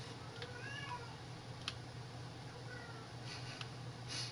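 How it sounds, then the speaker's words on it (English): A house cat meowing faintly in the background, a few drawn-out high meows and cries over a steady low fan hum. "My cat is freaking out in the background."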